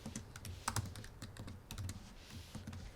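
Rapid, irregular keystrokes on a computer keyboard while a word is typed into a graphics panel, close and clear with no voices.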